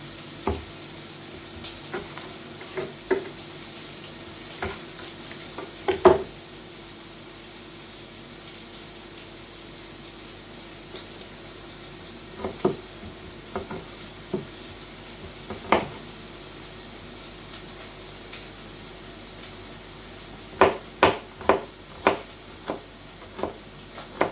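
Smoky sausage sizzles in a pan under a steady low hiss, with sharp clicks and scrapes of stirring scattered through and clustering near the end.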